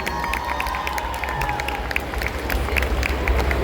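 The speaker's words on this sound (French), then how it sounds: "On applaudit encore une fois bien fort l'expédition 33," A crowd at a cosplay contest and prize ceremony during Geek Days Lille claps and cheers, with steady mid-level applause, scattered shouts and whoops, and a low hum running underneath.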